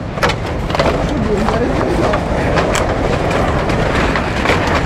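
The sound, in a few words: vehicle approaching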